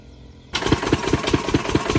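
A farm engine in a paddy field kicks in after a brief quiet moment and runs loud and close with a steady, thumping rhythmic chug.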